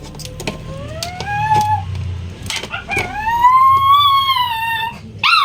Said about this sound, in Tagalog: Miyak yung aso ko.